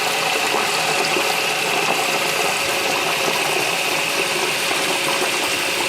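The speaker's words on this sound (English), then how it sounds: "Fill her up with some fresh water." Fresh water pours steadily into a plastic bowl, a constant rushing, splashing hiss that fills the whole stretch without pause, with no voices.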